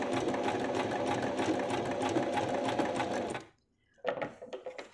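A sewing machine stitches a folded hem with an enclosed raw edge, running steadily and close for about three and a half seconds, then stopping before a few short bursts of stitching.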